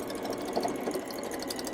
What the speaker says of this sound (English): I'm just going to stitch all the way around the top edge of the bag through all the layers